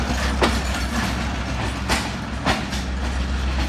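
The 246 Down Malakwal Express pulls out of Mandi Bahauddin railway station with a continuous rolling rumble, broken by several sharp clicks of wheels crossing rail joints, fairly close and steady throughout.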